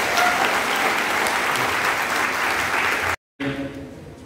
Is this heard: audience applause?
yes